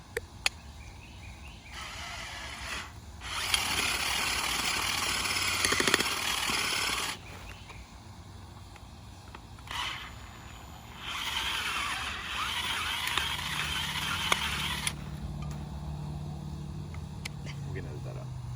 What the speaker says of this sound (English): Next up, we're using an auger this time.